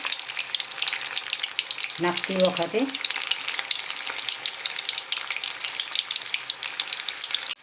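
Methi muthiya, fenugreek dumplings, frying in hot oil over a high flame, giving a steady, close crackling sizzle throughout, with a brief spoken phrase near the start.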